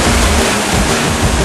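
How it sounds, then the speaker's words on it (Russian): Kivach, a lowland waterfall in Karelia, roars in a loud, steady rush of water that fills the whole clip without a break. "Мы находимся на первом равнинном водопаде, который встретил нас своей красотой, своим безумством и своим шумом."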